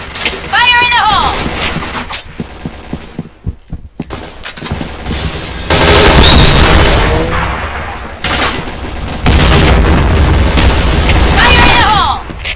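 Grenade blasts and scattered gunfire in Point Blank, an online first-person shooter, loud and close, arriving in heavy bursts with brief quieter gaps and short in-game voice calls at the start and end.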